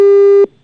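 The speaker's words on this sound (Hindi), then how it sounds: "एसडीएम साहब ने फोन कट कर दिया।" Telephone busy tone after a call is cut off, one steady loud electronic beep that stops abruptly, followed by near silence.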